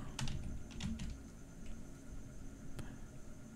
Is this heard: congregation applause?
no